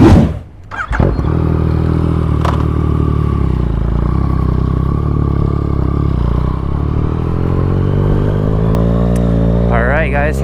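A Yamaha FZ-09 motorcycle on its first ride after pickup from the dealer, engine running loud and steady after a brief starting burst, its pitch rising near the end as it accelerates, with people talking over it.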